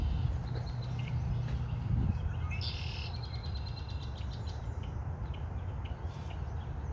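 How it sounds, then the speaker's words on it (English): Red-winged blackbirds call in a marsh, with a buzzy, trilling song burst near the middle over a steady broadband outdoor hiss and scattered chirps from other birds. "Lots of red-winged blackbirds,"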